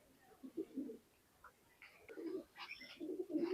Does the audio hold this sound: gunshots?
no